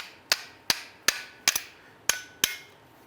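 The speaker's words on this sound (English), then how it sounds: "we're going to go ahead and use a small hammer" Six sharp metallic taps from a small hammer on a rear brake pad of a 2003-2007 Jeep Liberty, evenly spaced and close, each ringing briefly before the next strike.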